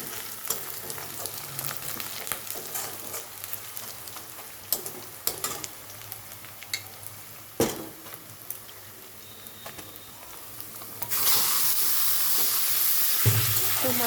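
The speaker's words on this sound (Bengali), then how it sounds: "এখন আমি এখানে মাটন দিয়ে দিচ্ছি।" Mutton pieces go into spiced, well-fried onions in a pan, setting off a steady close sizzle with stirring scrapes and spatters, the frying hiss swelling louder toward the end.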